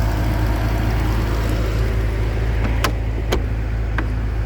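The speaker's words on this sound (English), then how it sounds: "you can hear underneath the hood that the engine is purring right along as it should" A 2006 Bentley Flying Spur engine idles under the hood with a steady low hum, with a few brief high clicks or ticks near the end.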